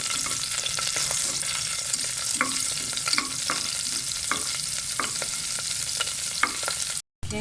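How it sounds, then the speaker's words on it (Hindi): Crushed garlic frying in oil in a pan for a red pasta sauce, a steady bright sizzle throughout with small crackles and pops, briefly cutting out near the end; no voices. "अब मैं इसमें ये लहसुन, 1 गट्टी लहसुन की मैंने जो कूटी हुई थी वो डाल दूंगी। इसे फ्राई करेंगे।"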